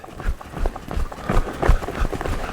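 Hooves of a horse picking up speed out of a curve into a lope, a steady rhythmic clip-clop of footfalls on the ground, close and moderately loud with a faint voice in the background.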